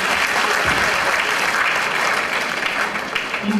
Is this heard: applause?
yes